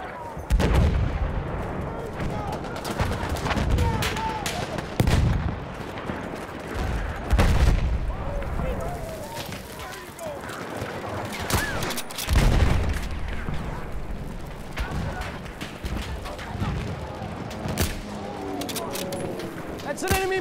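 Heavy gunfire and booming blasts fill a chaotic Battlefield 1 Conquest battle, with near and distant shots cracking continuously over rumbling explosions while in-game voices call out throughout.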